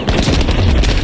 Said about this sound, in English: Is it a burst shotgun?